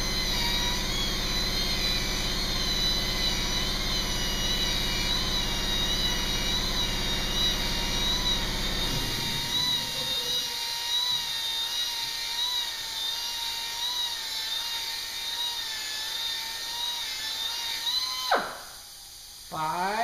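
A stone polishing machine runs with wet polishing pads, a loud, high, steady motor whine that winds down about halfway, leaving a quieter hum before a brief burst of sound at the end.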